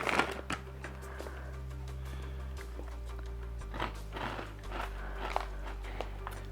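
A crunchy, slightly salty Indian or Pakistani snack is bitten and chewed close up, giving several crisp crunches at irregular intervals over a low steady background hum.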